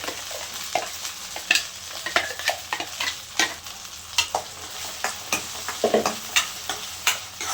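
Ground masala and onions fry in oil while being stirred, giving a low sizzle broken by regular sharp scrapes and clicks of a spoon against the pan, close and fairly quiet.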